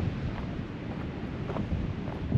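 Strong wind buffets the microphone near heavy ocean surf at a coastal lookout by Kingston SE. The roar is dense and continuous and stays loud throughout, with no voices.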